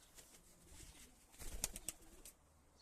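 Pigeons coo softly in a short, low burst, with faint flutters and background hiss; no voices.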